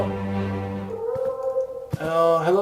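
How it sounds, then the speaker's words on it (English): A cat meows in The Last Door video game, a drawn-out tonal cry followed by a second rising, wavering meow, close and fairly loud against a quiet background. "oh, hello, cat. I can hear you in my head very vividly."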